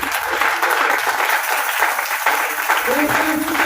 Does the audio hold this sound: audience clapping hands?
yes